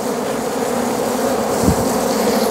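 Honey bees swarm densely while being moved into a normal hive, a continuous close buzzing drone with no pauses and no voices.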